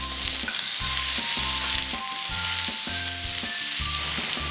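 Prawns hit hot oil in a wok with ginger, garlic and green onions, giving a loud, continuous close-up sizzle and crackle that holds steady throughout, with no talking.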